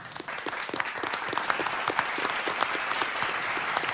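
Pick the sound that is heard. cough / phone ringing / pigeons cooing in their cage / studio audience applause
studio audience applause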